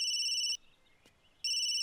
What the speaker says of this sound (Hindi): अरे सोनिया की जहां शादी कैंसिल हुई थी वहीं से फोन आ रहा है।